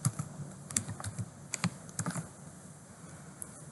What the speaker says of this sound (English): Let's type this function indirect.